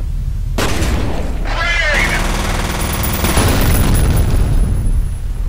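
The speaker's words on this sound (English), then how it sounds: "I don't know if that grenade did anything." Loud in-game grenade blast and gunfire in the first-person shooter F.E.A.R., a dense burst of booming, crackling combat noise filling the whole span with someone talking over it.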